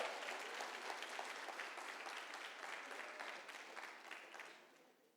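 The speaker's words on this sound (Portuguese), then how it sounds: "Palmas para a vida da minha esposa, por favor" Steady applause from a church congregation during a sermon, a dense wash of many hands clapping that fades slightly toward the end.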